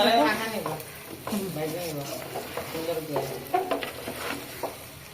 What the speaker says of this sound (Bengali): এবার একটা চালটা সুন্দর করে ভাইজে নিচ্ছি